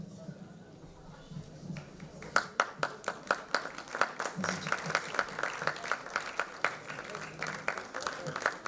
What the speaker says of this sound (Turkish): alkışlar aslında bizi bir araya getiren değerli koro üyelerimiz için